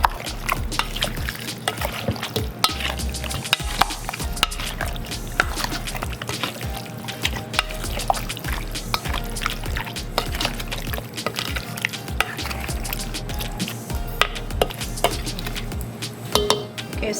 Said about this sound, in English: And now I'm going to give it a stir.